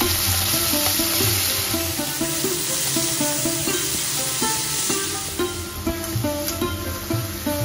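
Masala, curry leaves and chopped tomato sizzle in a pan, a close, steady frying crackle with scattered spattering pops and a music bed underneath.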